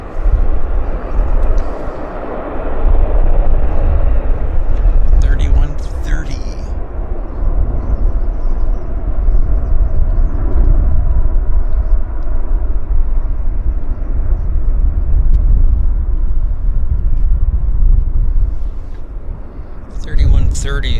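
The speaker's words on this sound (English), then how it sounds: "It's another Q400 actually inbound from Prince George." A WestJet Q400 turboprop arriving at Vancouver airport from Prince George, a loud steady engine roar lasting throughout with someone talking over it.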